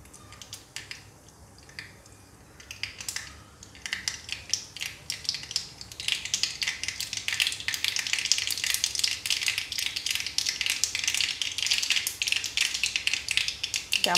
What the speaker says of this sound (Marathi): त्यामध्ये आता मोहरी जिरे व्यवस्थित तडतडले